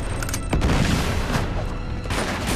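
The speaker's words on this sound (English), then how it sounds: "Rocket launcher!" Rocket launcher firing in Uncharted 2, a loud dense burst of booming blasts and crackling gunfire that fills the whole clip, with a sharp hit near the start and steady rumbling after.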